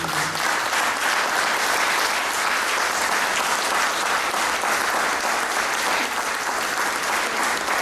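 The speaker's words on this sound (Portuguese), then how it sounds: "Oh, mais palmas, mais palmas" A congregation at a thanksgiving church service for the 40th anniversary of Angolan independence in London claps steadily and loudly as a dense, sustained wall of applause for nearly eight seconds.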